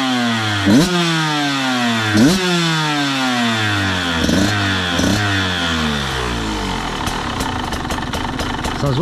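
A KTM 125 SX two-stroke dirt bike engine revs hard in repeated rising and falling bursts close by, dropping back between blips and finishing with a fast, choppy burble, with no one talking.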